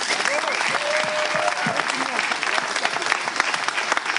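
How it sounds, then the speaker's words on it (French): Audience applause at a slam poetry award evening in Togo: a loud, dense, sustained wash of clapping from a crowd, with a voice faintly heard beneath it. "je crois quand même qu'ils méritent un grand applaudissement du public"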